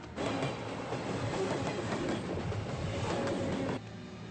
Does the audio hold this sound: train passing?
yes